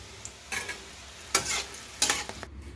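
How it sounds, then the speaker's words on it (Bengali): Bitter gourd frying in a pan, heard as a low background sizzle broken by three or four brief, close scraping bursts as the pieces are stirred and turned. "আর এদিকে উচ্ছে মনে হয় ভাজা হয়ে গেছে নাকি।"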